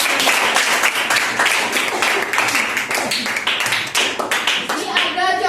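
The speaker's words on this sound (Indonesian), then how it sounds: "tepuk tangan untuk" A classroom of students claps their hands, a loud, dense burst of rapid clapping that lasts several seconds and fades as a voice begins to speak at the end.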